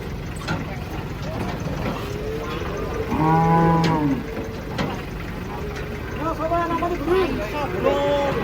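A giant cow moos loudly while jumping down from a truck, a long low call followed by shorter lowing amid a crowd of people talking nearby.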